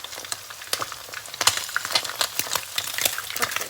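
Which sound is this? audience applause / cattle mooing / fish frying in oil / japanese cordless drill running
fish frying in oil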